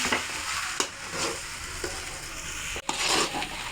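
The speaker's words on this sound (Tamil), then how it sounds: "நல்லா ஃப்ரை பண்ணிகிட்டே இருங்க இல்லைனா அடி பிடிச்சிரும்" Shark puttu with garlic and chilli is stir-fried in a pan, with a continuous close sizzle and repeated scraping stirs that cut out briefly partway through.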